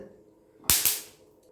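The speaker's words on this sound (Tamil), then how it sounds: "போடும்போதே பொரியுது பாருங்க இப்படி பட பட பட படனு" Two sharp, crackling pops in quick succession as seeds burst in hot oil, with a brief sizzling hiss trailing after.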